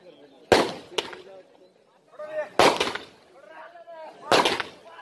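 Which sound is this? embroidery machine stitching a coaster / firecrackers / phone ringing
firecrackers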